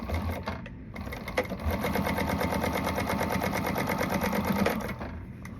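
A sewing machine top-stitches a lining seam, running in a fast, steady mechanical whir with a regular needle rhythm that starts and stops briefly, close and alone.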